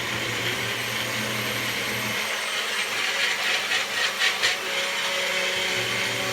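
A Vitamix blender churns a kale shake with banana, a steady loud motor whir and rushing liquid with a brief rhythmic shift midway as the contents circulate.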